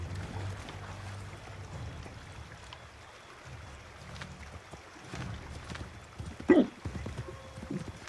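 Horse hooves clopping in the video game Assassin's Creed 3, a steady low rhythmic thudding under ambient game sound, with a brief louder burst near the end.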